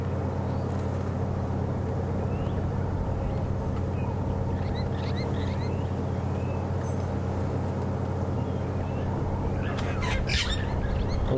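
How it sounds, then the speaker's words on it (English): Green pigeons call faintly in the African bush at sunset near a drainage line, their soft whistles set back behind the steady low rumble of a safari vehicle's idling engine. "You can hear green pigeons calling as well."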